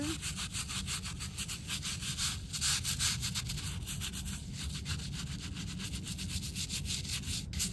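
A brush scrubs a headstone clean in fast, steady back-and-forth strokes, a close, continuous rhythmic scratching with no speech.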